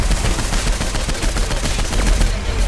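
Rapid gunfire from Saints Row IV crackles in dense, overlapping bursts, loud and close, sustained without pause over a couple of seconds.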